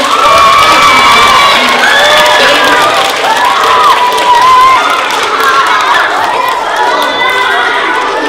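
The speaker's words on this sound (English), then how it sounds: "How about a nice big round of applause, my friends?" Schoolchildren at a fire safety assembly burst into loud applause mixed with high cheering and shouting, a packed, noisy crowd close around, sustained throughout.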